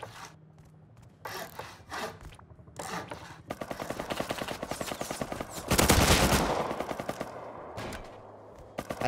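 Rapid machine-gun fire in the blocky Roblox Bedwars game, bursts of shots in quick rhythmic volleys that build to a dense, loud stretch before thinning out, with no talking.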